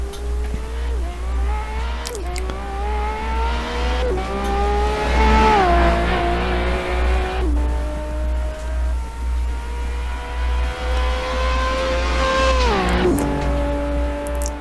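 A 1966-era race car at Monza in Assetto Corsa, engine revving hard and dropping through downshifts with rising and falling pitch sweeps, loud and continuous with a steady low drone beneath.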